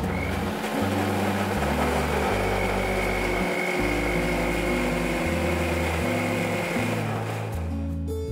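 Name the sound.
mixer grinding ginger garlic paste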